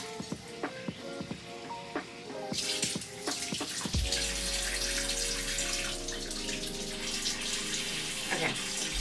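Kitchen tap run to get water at the right temperature for sourdough dough, faint clinks first, then a sudden loud steady rush of water from the faucet.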